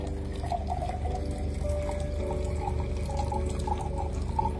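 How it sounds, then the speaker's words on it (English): Plain water pours into a glass in a soft, continuous trickle, faint and close, with no one talking. "I'm pouring just simple plain water."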